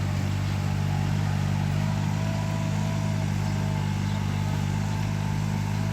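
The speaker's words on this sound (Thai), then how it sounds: "รถไถเล็กครับ" A small walk-behind rice-field tractor running steadily nearby, a constant low mechanical drone with a throbbing hum that holds at the same pitch throughout.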